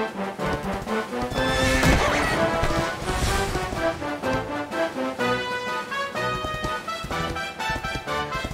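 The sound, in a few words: horse galloping and neighing, from a video game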